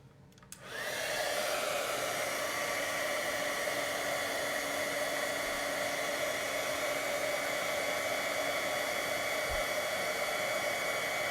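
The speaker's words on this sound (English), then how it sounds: "So I'm gonna grab my heat tool" A handheld crafting heat tool switches on with a click and then blows hot air in a steady, even whooshing hum with a faint whine, close and unbroken for about ten seconds, with no talking.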